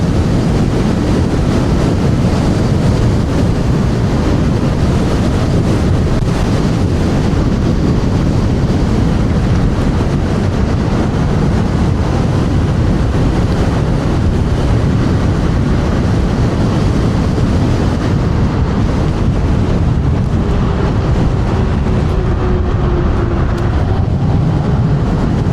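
Strong wind roars across the microphone while an electric scooter, a TRBK-M2 hyperscooter, is ridden at over 40 on a windy afternoon, a loud, continuous buffeting rumble throughout.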